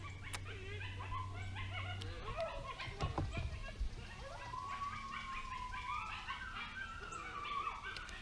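Coyotes howl and yip at a distance in open country, a rising wavering chorus of yips and howls that carries across the clip, with a low engine-like hum and a few knocks in the foreground.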